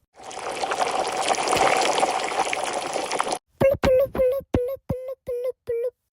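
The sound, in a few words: child imitating the sound of a kettle boiling water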